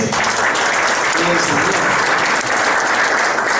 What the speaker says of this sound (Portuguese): un aplauso para Andrés